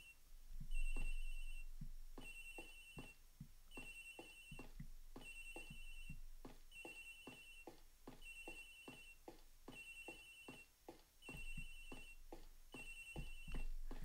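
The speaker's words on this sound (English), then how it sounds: "Agent Hicks's phone! It's ringing from somewhere, sir!" A cell phone in the Ace Attorney Investigations video game rings in a steady repeating electronic ringtone pattern, loud and close, continuing throughout with game music underneath and no talking.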